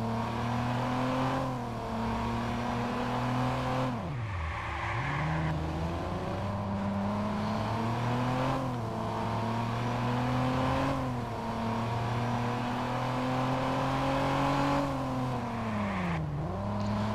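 Car engine in the Watch Dogs game revving and accelerating through repeated gear shifts, loud and continuous with rising pitch sweeps and dips between gears, no talking.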